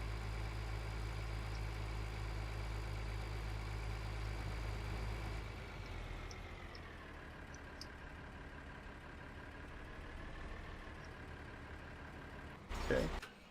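A tractor engine in Farming Simulator 2013 idles with a steady low drone, then drops to a quieter idle partway through, ending with a brief clatter.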